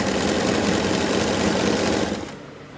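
A sewing machine stitches piping onto a designer belt with matching thread, a loud, close, rapid mechanical whir running steadily before cutting off near the end.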